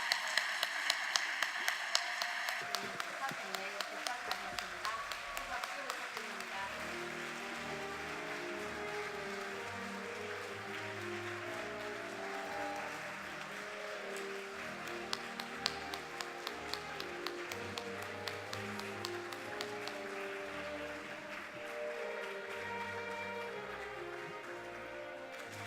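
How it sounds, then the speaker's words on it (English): A large conference audience applauds for Chairman Man-hee Lee, with dense, sustained clapping that starts sharp and loud, settles into a steady patter beneath music, and continues for a long stretch. "Let's give him a loud round of applause."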